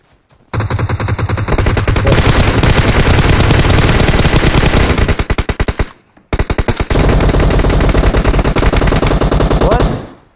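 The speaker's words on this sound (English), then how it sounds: "Shoot them off the road right now." Heavy automatic gunfire from the battle royale game PUBG Mobile, on the Vikendi map, hammers loudly in long continuous bursts. A short gap splits the two volleys, and no one talks over the shooting.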